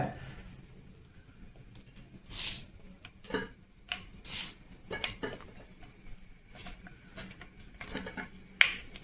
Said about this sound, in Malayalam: ഇത് അത്യാവശ്യം നല്ല രീതിക്ക് തന്നെ ഇപ്പം കടുക് പൊട്ടി വരുന്നുണ്ട്